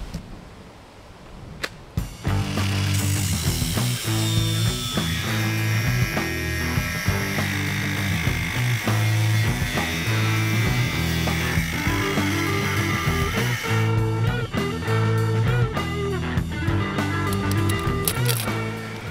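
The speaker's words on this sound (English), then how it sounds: "I think we're going to get the hole cut in the roof next" A power tool cuts a hole in a steel narrowboat roof, whining loud and steady with grinding, rattling bursts and a brief pause midway before cutting resumes.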